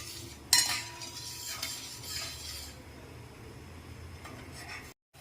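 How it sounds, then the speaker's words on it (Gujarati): A spatula scrapes and stirs sugar syrup in a pan over a gas flame, with a continuous soft scraping and swishing texture and a sharper clink near the start. "પછી તાવેથાની મદદથી એને સતત હલાવીશું"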